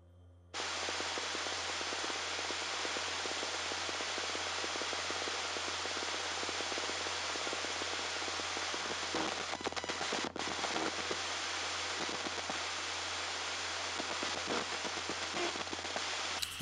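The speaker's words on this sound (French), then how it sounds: "Je vais sur un bruit blanc là." A radio tuned between stations in a house gives a steady wash of loud white-noise static after a brief quiet moment, hissing on unbroken with faint crackles and one short dip.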